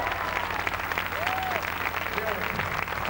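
A French television studio audience at a 1987 New Year's Day carnival broadcast applauds steadily, a dense, even wash of clapping with a brief voice and some music faintly woven underneath.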